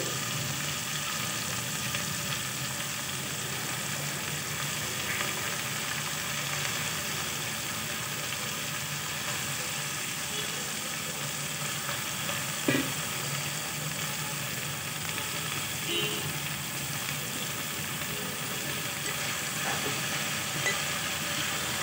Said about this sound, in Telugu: చిక్కుడుకాయలు బాగా కడిగేసుకుని ముక్కలు చేసుకుని కడుక్కొని నేను వేస్తున్నానండి